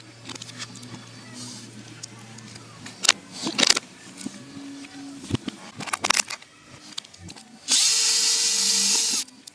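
A power tool backs screws out from behind a Ford Sync screen while a reverse camera is fitted. Short scattered clicks and handling knocks come first, then a steady whirring burst near the end, close and fairly loud with no talk.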